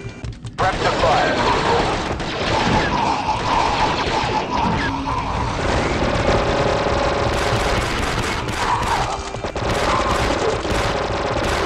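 Rapid blaster fire in Star Wars Republic Commando, a dense, continuous barrage of shots and impacts from a squad battle with concussion rifles and turrets, loud and sustained throughout with crashes layered in.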